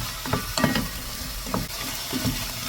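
Onions sautéing in a pan for a veggie curry, with a steady broadband sizzle and a few scraping stir strokes recurring through the short stretch.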